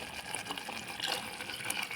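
Water used for rinsing is poured into a cooking pot for a drumstick curry, a steady low gushing splash heard close and alone for a couple of seconds.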